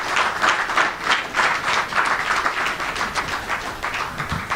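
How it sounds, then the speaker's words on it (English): Audience at a Queens tech meetup applauding a speaker, steady dense clapping at moderate distance that holds for a few seconds. "Can we please give Brian Cohen another warm round of applause"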